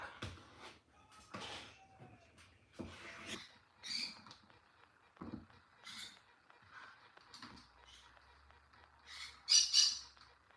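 Indoors, a chicken lets out scattered short squawks between quiet scraping and handling noises, ending in a louder, sharp pair of squawks close by.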